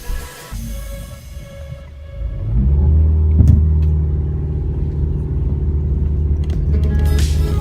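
A car on a test drive after a CV axle replacement starts with a low idle. It then builds into a loud, steady engine rumble and road drone heard from inside the cabin, with a brief knock partway through.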